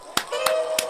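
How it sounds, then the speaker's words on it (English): Three slow, close hand claps for a producer during a beat-judging stream, spaced evenly over a second above a steady musical tone. "Let's just do a round of applause on a Saturday for a great producer."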